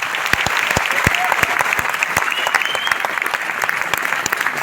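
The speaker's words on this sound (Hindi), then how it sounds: "मैं चाहूंगा एक बार जोरदार तालियां।" Loud, sustained applause from a crowd at a success celebration in Noida, dense clapping filling the whole stretch with a few sharper individual claps standing out.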